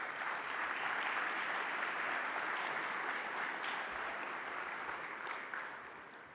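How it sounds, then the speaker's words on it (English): Luncheon guests at an awards ceremony give a sustained round of applause, a broad, even roar of clapping from a sizable crowd that tapers off slightly at the close. "Round of applause."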